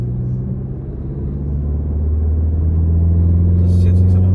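A Ford Focus ST with a 280 PS 2.3 litre four-cylinder petrol engine drones steadily while driving, the low engine note swelling gradually louder from inside the car, with a brief voice near the end.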